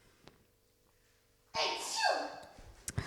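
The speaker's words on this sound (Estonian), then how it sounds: "Sa aevastad nii kaugelt ja see oleks tulnud nagu täpselt siia" A single sudden sneeze bursts out loud and close after a quiet stretch with a faint tick. It trails into a breathy tail, with a couple of small clicks after it.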